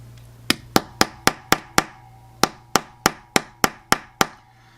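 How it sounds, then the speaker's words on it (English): A soft-faced hammer taps a pin into an Invicta Pro Diver watch band, giving thirteen sharp, close, evenly paced knocks in two quick runs with a short pause between. "soft side of the hammer."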